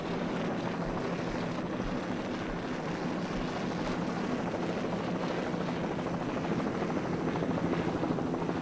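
A 38-foot Bandit-powered Apache offshore racing powerboat roars loud and steady at an offshore race, a dense continuous engine drone with churning water noise and no pauses.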